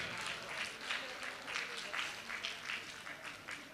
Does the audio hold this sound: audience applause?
yes